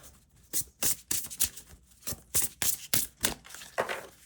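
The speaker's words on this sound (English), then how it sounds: "this one I'm going to shuffle as well" A tarot card deck being shuffled by hand: a series of crisp riffling bursts at an uneven rhythm, close and clear with no talk.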